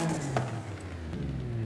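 Car engine revving through a sport exhaust in the Forza Horizon 5 racing game, a steady, sustained mid-pitched drone held close and loud for under two seconds.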